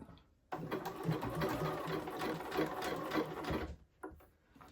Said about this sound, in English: I'm going to sew this down here with a 5/8 of an inch seam